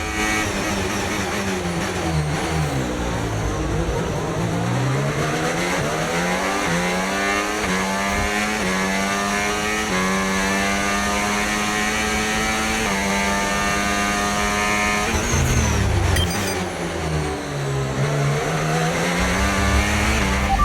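A Formula 1 race car in the F1 25 video game roars at high revs, its engine pitch climbing and shifting through gears in a continuous loud drone, with a brief burst of extra noise near the end.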